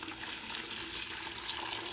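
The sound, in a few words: boiling hot water poured into mead mixture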